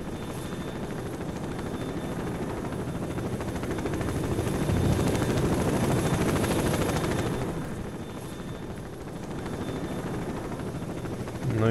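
A helicopter in S.T.A.L.K.E.R. passes overhead, a steady broadband rotor-and-engine roar that swells in the middle of the pass, eases off, then picks up again near the end, with no talking.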